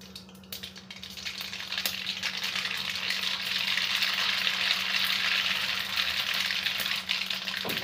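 Mustard seeds crackle in hot mustard oil in a pan, making a steady, loud sizzle with small pops that builds and holds throughout, close by, with no voices.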